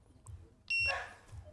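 A single electronic power-on beep from a Begode Extreme Bull K6 electric scooter, bright and steady, lasting a few tenths of a second against quiet background noise.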